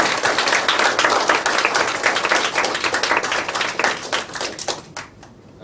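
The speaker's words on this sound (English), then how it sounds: "while you give them a round of applause" Audience applause at a book talk in a new seminar room, a dense wash of many hands clapping that thins and fades toward the end.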